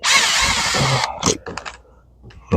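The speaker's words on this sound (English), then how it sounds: "I'm just gonna put the screws back in spots." A power drill drives screws into the seat of a 1957 Chevy, opening with a sustained loud whirring burst of about a second, followed by short clicks and handling knocks, then a brief restart at the end, close up.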